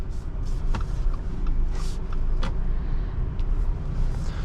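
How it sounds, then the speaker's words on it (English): A 2024 Subaru Forester Wilderness accelerates hard from a standstill, heard from inside the cabin as a steady engine drone and road rumble with a few brief clicks and knocks, fairly constant in level. "we're going to do our 0 to 60 test first before we continue any further with our drive"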